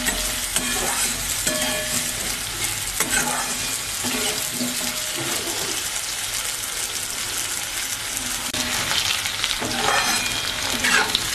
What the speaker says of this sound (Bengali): আলুটা কিছুটা ভাজা হয়ে এসেছে, এবার আমি বেগুনগুলো দিয়ে দিচ্ছি। বেগুনটাও ভেজে নেব।